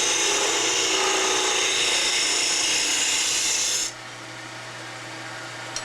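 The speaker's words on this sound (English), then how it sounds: "And now I'm going to use the 3/4 inch flat scraper" A 3/4 inch flat scraper rasps against spinning wood on a lathe, a loud, steady scraping that stops abruptly near the end, leaving the lathe's quieter running hum.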